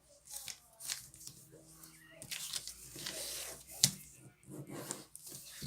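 Colored paper is creased and folded for an origami crane, with soft rustling and crinkling and one sharp crisp snap, all heard under a voice giving instructions.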